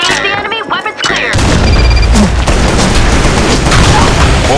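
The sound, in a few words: grenade explosion in the video game Insurgency: Sandstorm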